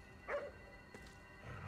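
A single short dog bark in the video game Ghostwire Tokyo, faint and somewhat distant over a quiet ambient background.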